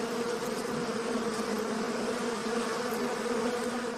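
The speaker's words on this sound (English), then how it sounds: "The artificial hive offers the bees safe housing" Honey bees buzz around an artificial hive, forming a steady, dense drone of many insects at moderate distance that holds level throughout, with no voices.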